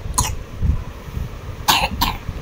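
A child coughing nearby, one sharp cough early and two more close together later, with faint household noise between.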